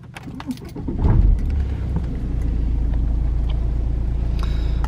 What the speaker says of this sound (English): we will fire the engine up